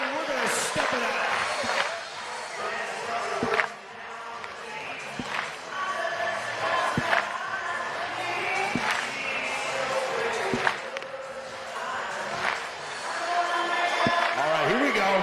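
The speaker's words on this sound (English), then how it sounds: "Keep clapping, we're going to step it out." Stadium crowd at a Savannah Bananas home game against the Firefighters, clapping in a steady, stomping rhythm with scattered cheers and shouts, loud and dense throughout, with an announcer's voice over it.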